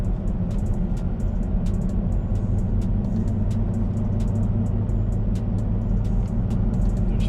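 A 2017 Toyota Tacoma's engine pulls steadily while accelerating through the gears in S mode, a continuous loud low drone with road rumble and faint ticking throughout.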